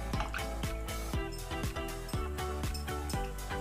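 Fresh chena (paneer) rinsed with clean water gives a run of wet drips and splashes in a quick irregular rhythm, close and moderately loud.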